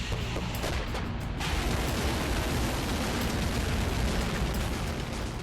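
Hwasong 16B solid-fuel hypersonic missile launching from the ground in North Korea, a loud sustained roaring rumble that holds steady throughout without any voices.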